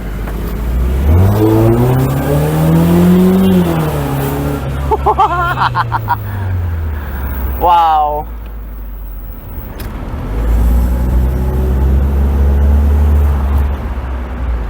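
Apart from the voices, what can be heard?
1996 Mercedes-Benz SLK 230 Kompressor supercharged engine driving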